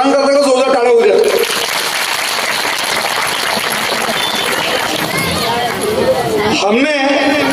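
A crowd claps loudly and steadily at a grand civic felicitation ceremony honouring an appointment as assistant commissioner. Dense applause fills several seconds, with a voice speaking before it starts and again as it fades.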